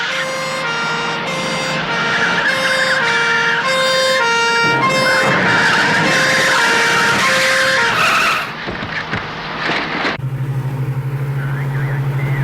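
A police car siren wails through a busy street scene, loud and continuous with rising and falling harmonic tones, joined by skidding tyres and car noise, then cut by a steady low horn blast near the end.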